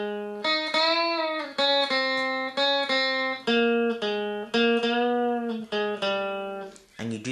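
Electric guitar playing a riff: loud, rhythmic chord stabs in short repeated groups, sharply cut between hits and ringing with rich overtones, with no talking.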